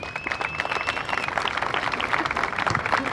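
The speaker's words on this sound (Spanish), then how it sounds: "Dale inicio, regálame el aplauso." An audience applauds at a live clown comedy show, a dense, steady wash of many hands clapping that continues without a break from start to finish, with a faint thin tone running through the first half.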